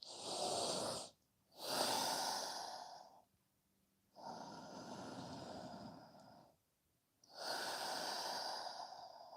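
Slow yoga breathing through the nose, with long audible inhales and exhales alternating in steady rhythm and brief pauses between breaths, close and clear with no talking.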